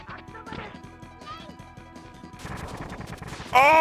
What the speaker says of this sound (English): That spell is great. It's just a bunch of rays.